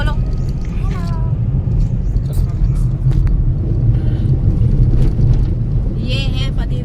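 Steady low engine hum and road rumble fill the cabin of a moving family car, constant and close, with people talking over it throughout.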